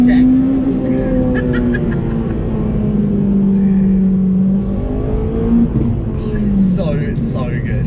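Honda Civic Type R EP3 on a bumpy back road, engine revving hard toward VTEC: a sustained loud interior engine drone rising and falling through the revs, with a voice speaking briefly over it.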